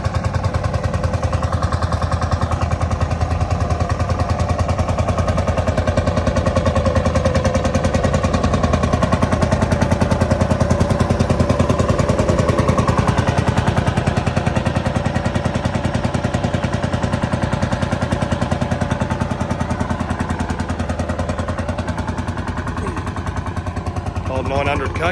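An old Field Marshal tractor runs at a truck show in dry Ivanhoe, its engine giving a loud, continuous low thumping chug that holds steady for the whole stretch.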